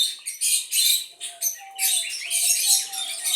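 Parrots perched in pairs by a light bulb chirp and squawk in dense, overlapping bursts, fairly close and loud, with a thin whistled note running beneath the chatter.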